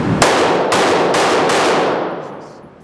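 Loud, close pistol shots from a high-end 9mm, the Shalotek, Daniel Defense H9 or Icarus Parker Mountain Machine: four sharp reports in quick succession, each followed by a bright ringing tail that fades out at the end.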